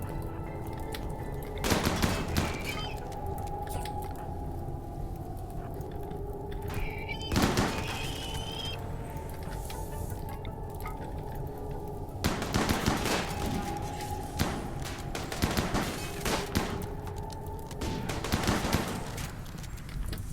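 Colonists firing guns in RimWorld, several short bursts of gunfire spread across the stretch with gaps between volleys, steady game ambience underneath and no talk.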